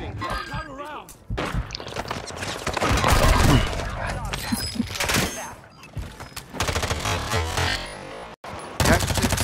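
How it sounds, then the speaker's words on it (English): Video game gunfire rattles in rapid, uneven bursts and volleys, loud and close, mixed with game effects while a player talks over it. "Getting shot at."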